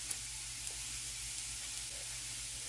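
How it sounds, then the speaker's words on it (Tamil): Vegetables and masala sizzle softly in a pan as they are stirred, a faint steady frying hiss with a few small clicks of the spoon, no voices. "இப்போ மசாலாலாம் ஆட் பண்ணிவிட்டு நல்லா மிக்ஸ் பண்ணி விட்டுறலாம்"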